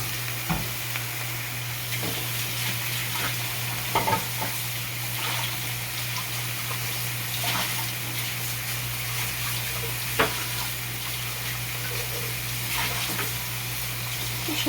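Onions and spices stir-frying in a pan with a little added water, a steady bubbling sizzle with repeated scraping stir strokes, close and continuous throughout.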